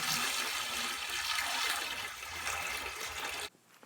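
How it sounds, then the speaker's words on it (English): Water pours into a bucket in a workshop with a steady splashing rush for several seconds, then cuts off abruptly, leaving near silence. "We're pouring in the water."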